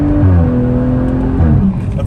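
A BMW M135i hatchback engine held against the brakes for a launch, revving loudly and steadily at close range with a wavering droning tone, easing slightly at the end.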